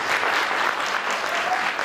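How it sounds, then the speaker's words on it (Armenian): An audience applauds at a vocal studio's solo concert, with steady, warm clapping from many hands sustained evenly across the brief moment. "Եկեք ջերմ ծափերով դիմավորենք մեր փորձառու սաներին"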